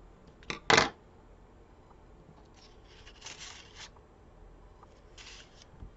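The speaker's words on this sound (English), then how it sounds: "I can cut it in half." Scissors snipping a planner sticker in half, one sharp close cut followed by faint paper rustles and handling of the sheet in a quiet room.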